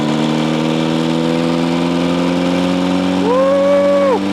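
A homemade go-cart engine drones steadily while driving, a loud buzzing mid-pitched motor that rises sharply in pitch near the end as it revs up, then eases back.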